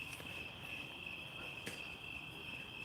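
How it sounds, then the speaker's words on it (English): Crickets chirping outdoors on a dark night, a steady high-pitched trill running continuously at low volume with a few faint background sounds and no talk. "Can you hear the crickets?"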